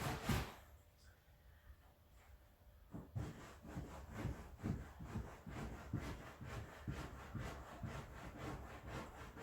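A wet cloth rubs back and forth over a leather couch in steady, rhythmic strokes, each pass a close scrubbing swish that follows a brief quieter start, repeating about twice a second.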